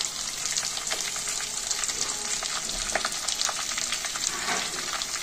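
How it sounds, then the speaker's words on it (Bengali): Chopped onion, capsicum and green chili fry for chilli fish in a dense, crackling sizzle that runs loud and unbroken throughout, with occasional stirring knocks beneath it. "একটু নেড়ে ছেড়ে ভেজে নেব।"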